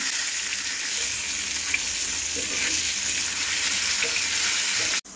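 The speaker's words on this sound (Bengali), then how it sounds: "সবগুলো মাছ আমি একসাথে দিয়ে দিছি যাতে তাড়াতাড়ি হয়, এই কারণে আর কি তাওয়াতেই দিলাম" Fish frying together on a tawa griddle, a steady loud sizzle of hot oil with faint scraping, close and continuous until it cuts off at the end.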